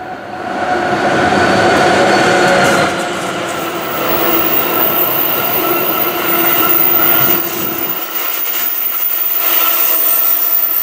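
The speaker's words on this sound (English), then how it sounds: "Here comes train 777, now going up to heaven." A small model train runs along its track with a continuous whirring rumble and clicking, the motor noise cutting out near the end.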